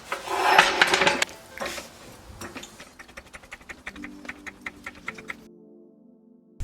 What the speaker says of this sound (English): So I'm going to start off by safely jacking up my Acura.